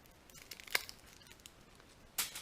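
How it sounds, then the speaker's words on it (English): Garlic cloves are whacked and their skins peeled off in a kitchen: a sharp crack, scattered faint papery rustles, then a louder crinkling tear near the end, all close by. "Garlic, just going to whack them so I can peel the skins off."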